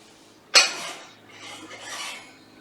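Two warm plates pulled from an oven, one sharp ceramic clatter followed by softer scraping and rubbing as they slide and settle, close and isolated in a quiet kitchen.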